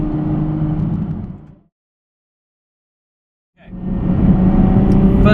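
A Ferrari F12 Berlinetta fitted with an IPE performance exhaust revs in two loud, close bursts of deep engine roar, separated by about two seconds of silence.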